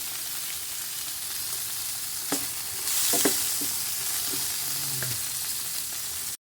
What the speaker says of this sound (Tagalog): So guys, nagisa ko na siya mabuti.